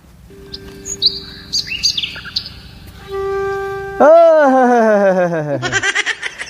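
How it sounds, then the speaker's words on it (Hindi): Several bird chirps and whistled calls up close, mixed with voices and laughter from an Awadhi comedy sketch, ending in a long sliding squeal. "हम चिड़िया की आवाज सुन रहे हैं।"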